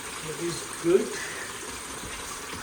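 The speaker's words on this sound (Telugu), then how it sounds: "Okay. filling the tank." Water runs into a tank from a newly fitted home water softener system, a steady, moderate rushing flow with a couple of brief bumps, while a voice talks faintly in the background.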